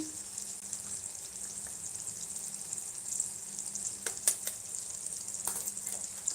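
Tomatoes cooking with spices in a pan give a steady, faint sizzle throughout, with a few soft stirring taps and scrapes near the end and no talk.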